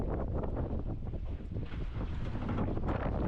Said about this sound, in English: A little bit windier from the south this time, but not too bad.